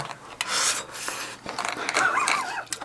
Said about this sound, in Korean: 개딱지를 긁어 파고 있어요